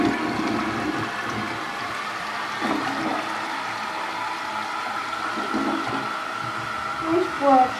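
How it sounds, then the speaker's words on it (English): A Crane Galaxy toilet in a hotel bathroom flushes with a loud, sustained rush of water that runs steadily for several seconds, ending with a brief gurgle and some faint voice. "Let's give her a flush, shall we?"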